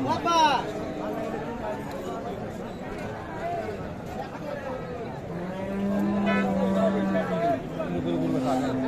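A local breed cow moos with a long, low call amid the chatter of a busy crowd at a cattle market, and people talk nearby throughout.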